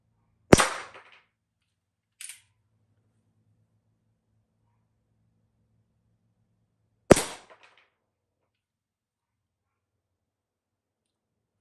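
Two sharp airgun shots ring out about six seconds apart, each a loud, snappy crack with a short tail, and a faint click falls between them in an otherwise quiet setting.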